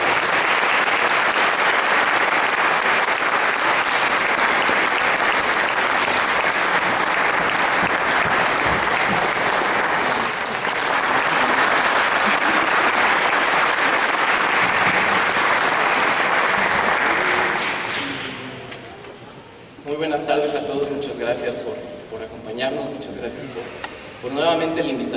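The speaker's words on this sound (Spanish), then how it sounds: "Demos un caluroso aplauso a la camarería y a su director, Javier Hernández Tagles" Festival audience applauding a chamber orchestra and its director, a loud dense ovation sustained for about eighteen seconds before fading out, followed by a voice speaking.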